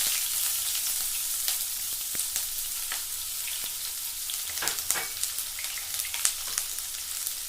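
Chopped onion dropped into hot oil with popped mustard seeds for a Tamil bottle gourd kuzhambu, giving a steady close sizzle and crackle with scattered sharper pops and stirring scrapes throughout, no voices.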